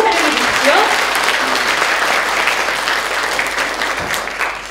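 Audience applause welcoming local public health center directors at a cancer management event, a dense steady clapping from a crowd that holds for nearly five seconds and tapers slightly at the end.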